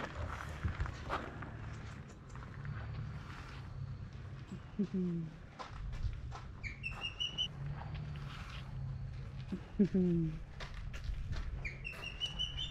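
A few short whistled osprey calls, one pair low and one higher pair near the end, over rustling, footsteps and faint background voices at a birds of prey rescue center.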